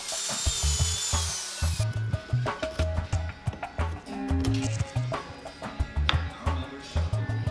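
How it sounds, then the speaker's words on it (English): A power drill drives pocket holes into wood for cabinet drawer fronts and a door, starting with a brief high whine, then repeated short loud bursts of drilling and chattering with brief pauses between them. "Drill pocket holes and assemble your drawer fronts and door."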